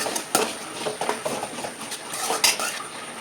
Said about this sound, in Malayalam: ഇനി ഇളക്കാം.